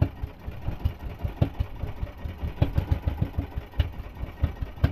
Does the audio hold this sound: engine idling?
yes